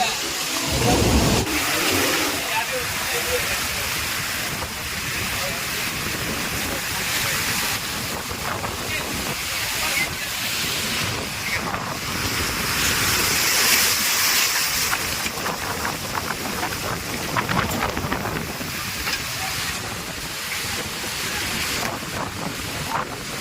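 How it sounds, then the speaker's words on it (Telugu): Strong wind blows hard at an outdoor temple site, a loud, gusting roar that buffets the microphone and rises and falls throughout, with someone talking over it at times. "ఇది గాలి చూసారు కదా ఎలా వస్తుందో బీభత్సం గాలి అనమాట"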